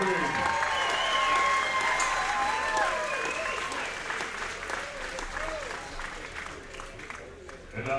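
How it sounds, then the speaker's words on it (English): Crowd at a boxing event in Baytown, Texas applauds the two fighters in the ring, loud clapping and cheering that gradually eases off, with a voice talking over the start. "A big round of applause for these 2 sluggers in the ring."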